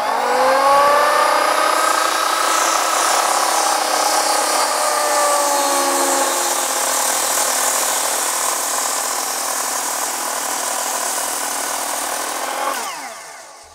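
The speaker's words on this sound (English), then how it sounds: "You can see that I can get very close to the line with that saw." Skilsaw circular saw cutting through a timber rafter for a half lap joint, a loud close whining cut held steady for about thirteen seconds before the blade spins down at the end.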